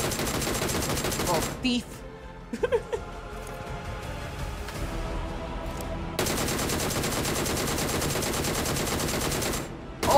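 Bursts of rapid gunfire in a shooting video game, loud sustained volleys at the start and again through the second half, separated by a quieter stretch with scattered shots and brief talk.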